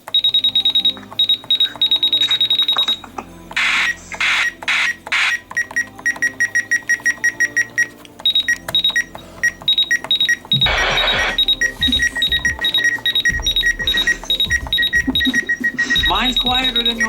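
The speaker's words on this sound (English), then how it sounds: "the button beeps on the RadioShack 12-249" A RadioShack 12-249 radio gives off repeated short, high electronic beeps as its buttons are pressed, in quick clusters through most of the stretch, with people talking over and between them.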